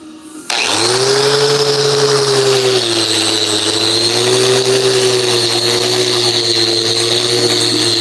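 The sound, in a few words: grinder cutting in a garage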